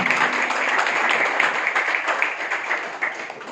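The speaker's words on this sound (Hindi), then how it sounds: "जोरदार तालियां हैं।" An audience cheers on selected bank assistant exam candidates with a dense, sustained round of applause, loud and continuous for a few seconds before easing slightly.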